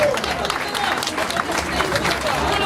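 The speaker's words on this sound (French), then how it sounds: "On applaudit Georges." A crowd at an outdoor Fête de la Musique street festival in Sarlat applauds, a moderate patter of many hands mixed with crowd murmur and chatter, continuing steadily throughout.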